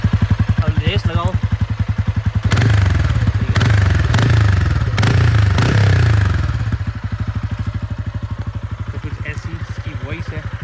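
A TVS Ronin 225 motorcycle with its stock exhaust idles with a steady, close thump, then is revved hard several times in quick bursts before settling back to a loud, even idle.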